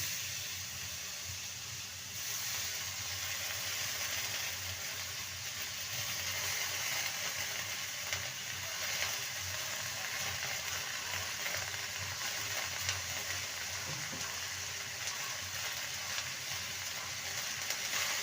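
Chopped, washed spinach frying in a pan, three hundred grams of it, giving a steady, faint hiss and sizzle that holds evenly for the whole stretch with only the odd faint clink.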